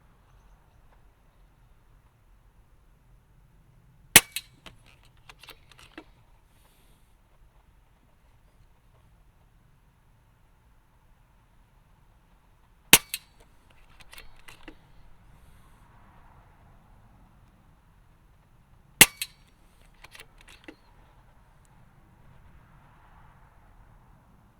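A KalibrGun Snipe II .177 sub-12 air rifle with a 600mm barrel fires sharp, crisp cracks, each followed by a faint target tick, spaced several seconds apart in a quiet setting; only three clear shots stand out.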